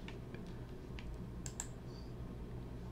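Light, quick keystrokes tap on a computer keyboard in short irregular bursts, faint and close over a steady background hum.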